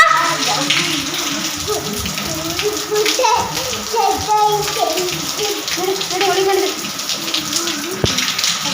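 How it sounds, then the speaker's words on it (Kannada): Rain pours steadily in a constant watery hiss, with a voice speaking over it throughout. "ಈಗೆಲ್ಲ ಸರ್ರಾಗಿ ಮಳೆ ಈ ಸಿಕ್ಕಾಬಟ್ಟೆ ಮಳೆ ಬರ್ತೈತೆ"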